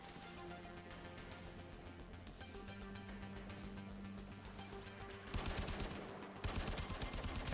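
Rapid bursts of automatic gunfire from a Warframe firefight, a steady stream of closely spaced shots that grows louder and denser toward the end, with no talk over it.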